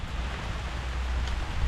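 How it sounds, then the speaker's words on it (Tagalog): Heavy rain pours in a dense, steady hiss that grows slightly louder toward the end, close and continuous with no voices. "palakas na yung ulan mga idol oh"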